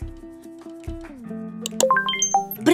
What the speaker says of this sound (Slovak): Čo to zvoní? Prišla ti správa.